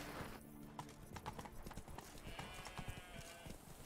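Roach, the horse in The Witcher 3: Blood and Wine, galloping in Toussaint, a quick rhythmic run of close, crisp hoof clip-clops over a brief game ambience.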